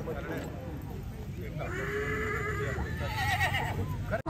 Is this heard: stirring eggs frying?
no